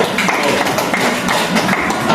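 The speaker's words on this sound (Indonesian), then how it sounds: "tepuk tangan buat teman kamu" A classroom of students claps for a classmate during a coding lesson, loud, close and fairly dense clapping throughout with no talk over it.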